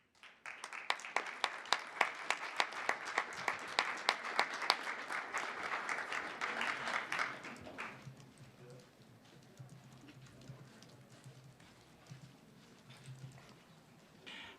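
Applause at a school governing board meeting honoring cheer state runners-up, a burst of scattered clapping from a modest crowd lasting several seconds before fading into quiet room noise.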